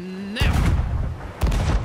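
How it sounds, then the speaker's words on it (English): Ship cannon fire in the pirate video game Sea of Thieves: two heavy booming blasts about a second apart, loud and close, with a low rumbling tail after each shot. "Get ready on cannons."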